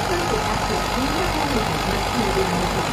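Massey Ferguson 290 tractor engine idling at a farm ricefield, a steady low rumble continuing under people talking.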